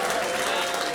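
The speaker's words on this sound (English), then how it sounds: "One more big round of applause." A comedy-club audience applauds a battle winner with dense, steady clapping that fills the room evenly throughout, loud and continuous.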